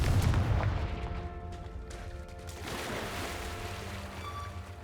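Confringo fire spell blasts in Hogwarts Legacy, a heavy booming burst up front followed by rumbling, crackling aftermath that lingers at moderate loudness.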